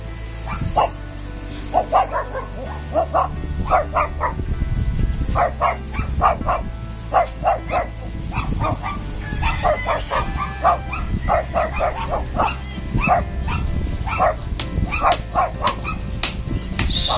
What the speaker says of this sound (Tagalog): Ingay mo aso.